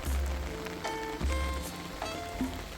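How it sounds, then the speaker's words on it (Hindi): Raindrops patter on a tent by Chitta Khatta Lake in Kashmir, a steady close wash of rain with occasional brighter drips and tones scattered over the soft background hiss. "बारिश के एक एक कतरे की आवाज सुनाई दे रही थी।"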